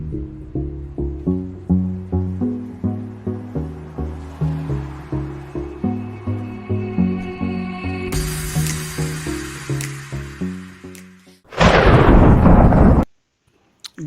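A sudden loud thunder crash used as a sound effect bursts in over a steady, rhythmic electronic music loop, roaring briefly before cutting off abruptly.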